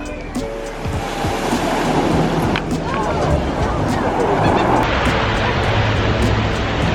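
Ocean surf rolls in steadily, a loud, constant wash of breaking waves with wind rumbling against the microphone throughout.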